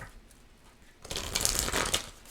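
A deck of tarot cards is riffled and shuffled close up in a single quick, crisp burst of papery flutter lasting about a second after a quiet lead-in.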